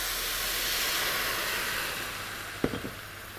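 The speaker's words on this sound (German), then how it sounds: "Und die lösen wir jetzt mit dem Rotwein ab." Red wine deglazing browned bits in a pot for braised veal cheeks, a loud, steady steaming hiss that slowly eases off, followed near the end by a few brief knocks of a utensil.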